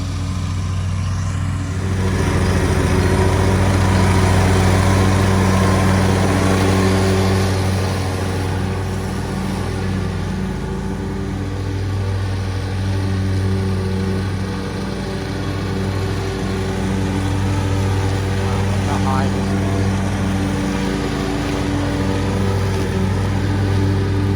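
A lawn mower drones continuously at close range while cutting extremely thick, overgrown grass with dull blades. The engine holds a steady, loud hum with slight load changes and no speech.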